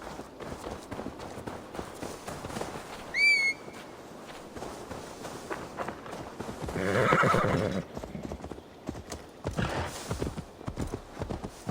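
In Assassin's Creed Valhalla gameplay, horse hooves clip-clop at a steady trot while a horse whinnies loudly, with a brief whistle earlier and later bursts of movement.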